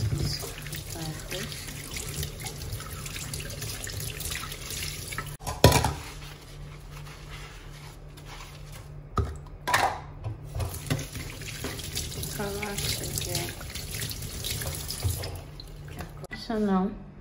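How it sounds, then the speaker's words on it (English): Tap water runs and splashes over a tin of milk being rinsed at a kitchen sink, with steady trickling and a few louder bursts, while a voice talks over it. "So I'm just going to rinse this first."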